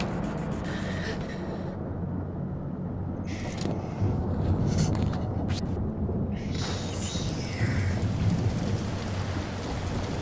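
Rain and rolling thunder in the horror video game Slender: The Arrival, with a steady downpour and heavier bursts of thunder swelling and fading over about ten seconds, with no voices.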